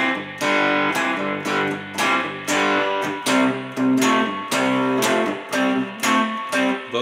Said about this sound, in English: as the track progresses we get near the end and we get these chords before the fade out